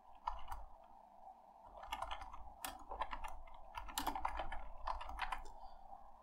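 Quiet typing on a computer keyboard, quick irregular bursts of clicky keystrokes up close, with short pauses between runs and no talking.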